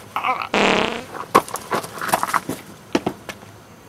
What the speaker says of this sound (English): You just farted in your face.